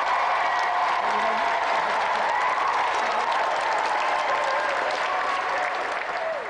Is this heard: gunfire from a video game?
no